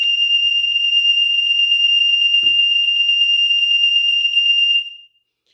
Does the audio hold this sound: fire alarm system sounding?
yes